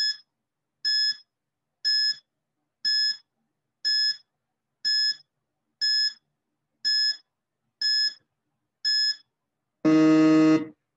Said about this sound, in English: So Paul, your timer starts now.